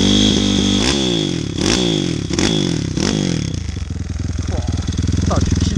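A small 160 YX motorcycle engine runs on a test ride, loud and close, revving in rising surges before settling into a steady, rough, throbbing drone.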